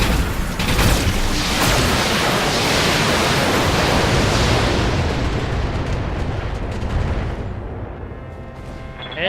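A mech in the BattleTech video game fires all weapons at once, producing a loud, sustained roaring blast of broadband noise that fades slightly near the end.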